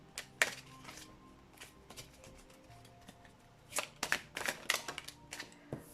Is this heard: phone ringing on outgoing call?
no